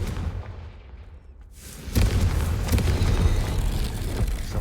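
Confringo spell blast in Hogwarts Legacy, a sudden loud booming burst that gives way to rumbling, crackling game noise, with a quieter lead-in of ambient sound before the hit.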